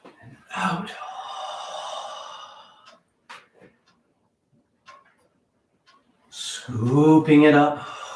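Slow, deep breathing out as part of qigong practice: a long close exhale, followed by quiet breaths and small sounds, then a louder voiced breath near the end.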